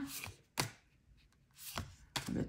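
Tarot cards being shuffled by hand in several quick, crisp riffling bursts separated by short pauses, close and fairly quiet.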